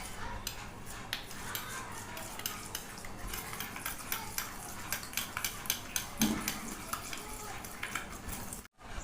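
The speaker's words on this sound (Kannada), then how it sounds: "ಕೊಬ್ಬರಿ ಎಣ್ಣೆ ಹಾಕ್ಕೊಂಡು ಇದಕ್ಕೆ ಕ್ಲೀನಾಗಿ ಮಿಕ್ಸ್ ಮಾಡ್ಕೊಳ್ಳೋಣ" A spoon stirs a homemade natural hair dye mixed with coconut oil, clinking and scraping steadily against the container in a quick, even rhythm, close and fairly loud, with no talking.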